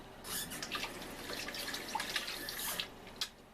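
Tap water runs and splashes in a sink while salsa is rinsed off, with soft uneven gushes and drips at low volume and no talking.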